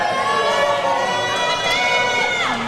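Crowd at a university powerlifting competition cheering and shouting loudly and continuously for a lifter, a dense sustained roar of many voices with whoops.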